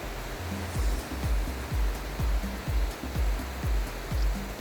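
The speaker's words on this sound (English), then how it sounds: "This is well in flood now with all that heavy rain last night." A mountain river in flood after a night of heavy rain rushes loudly and continuously, with a broad roar of water and rhythmic low thuds recurring roughly every half second.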